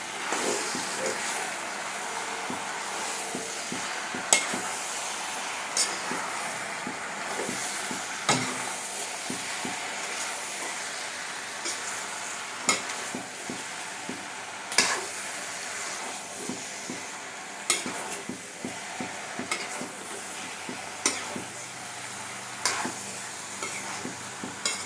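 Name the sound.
stirring fried potatoes into jackfruit masala in pan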